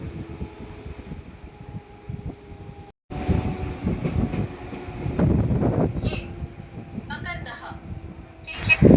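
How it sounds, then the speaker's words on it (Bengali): A Howrah to Amta local train runs along with a steady rumbling roar and wind noise, swelling louder after a brief cut, with faint clicks and squeals of the carriage. "আমাদের ট্রেন এসে পৌঁছালো মকরদহ স্টেশন"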